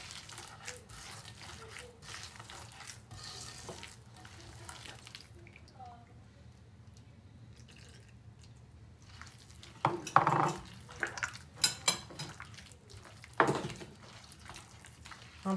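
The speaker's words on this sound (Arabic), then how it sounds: "غنبقاو نحركو هذا الخليط حتى يتخلط كلشي، الزيت مع الزبده ويتشرب." An egg, oil and butter mixture for cookies is stirred in a bowl, soft and low at first, then a cluster of sharper clinks and scrapes against the bowl in the second half.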